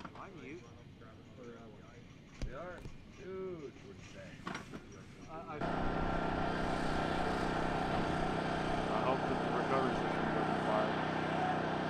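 Liquid-fuel amateur rocket engine running on E85 ignites after a spoken countdown, its steady broadband roar cutting in abruptly and holding loud and continuous to the end, with voices talking over the opening seconds.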